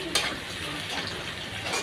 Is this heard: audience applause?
no